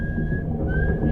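Somewhere down below someone whistles a single sustained note that slides slightly in pitch, faint over a rumbling background.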